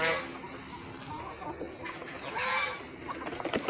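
Village hens clucking and calling close by, with scattered squawks and some wing flapping over a busy farmyard background, no speech.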